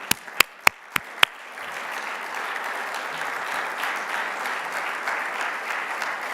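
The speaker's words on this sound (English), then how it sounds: "Vous pouvez l'applaudir." An audience at the EDP congress in Bilbao breaks into applause for François Bayrou, beginning with a few sharp, separate claps that swell into dense, sustained clapping from a large crowd.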